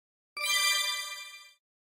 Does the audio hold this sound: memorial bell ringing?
yes